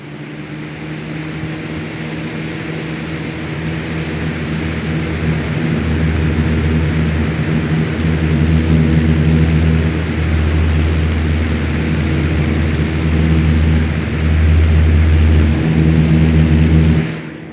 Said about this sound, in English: Let's see how it does against a 40-mile-an-hour fan wind.